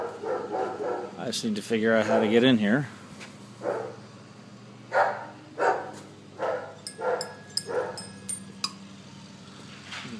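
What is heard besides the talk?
German Shepherd dogs barking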